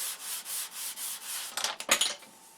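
Balsa wood being sanded with a 320 grit DuraBlock, a series of steady back-and-forth rubbing strokes in a regular rhythm, close and fairly quiet, followed by a couple of sharper, scratchier passes near the end.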